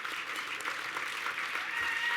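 An audience claps steadily throughout a short burst of applause at the 2023 Victorian Aboriginal Honour Roll ceremony, an even crowd of hands with no voices on top.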